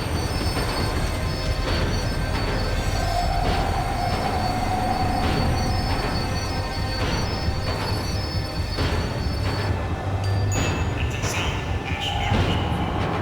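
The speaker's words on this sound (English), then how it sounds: "The tram was slowing down, and I'd only just gotten on board." A tram in the Max Payne 3 video game rumbles steadily as it slows, with wheels squealing and rail clatter carrying through under a continuous low drone.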